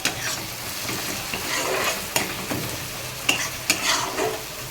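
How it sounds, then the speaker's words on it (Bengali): Spice masala mixed with yogurt frying in oil for a Bengali potol dish, stirred with repeated scraping strokes over a continuous close sizzle, a few sharper utensil knocks standing out. "এই মশলাটা দিয়ে যখন একটু তেল ছাড়বে, এই যে তেল ছাড়ছে"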